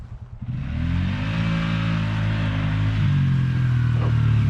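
A 2020 Polaris Sportsman 450 ATV with a clutch kit revs up and accelerates hard, its engine rising into a loud, sustained mid-pitched drone that stays close and steady throughout.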